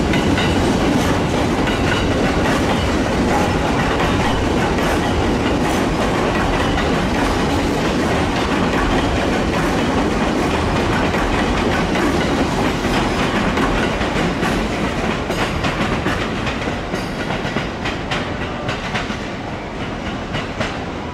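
Trains rumbling through Chiba station in Japan, continuous clickety-clack of wheels over rail joints with a steady roar that slowly fades toward the end, no voices.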